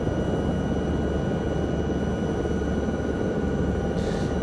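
Low-flying aircraft over a small town in Microsoft Flight Simulator, likely a Lama helicopter near Peterborough Conington Airport, giving a steady broadband engine and rotor drone that stays loud and unbroken throughout.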